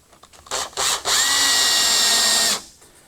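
A power drill drives screws into a shelf board for heavy-duty garage shelves: two short whirring bursts, then one longer loud, close run that winds down abruptly, with no talk.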